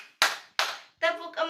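Children clap their hands in a counting game, with two sharp claps followed by a voice calling out numbers, crisp and close.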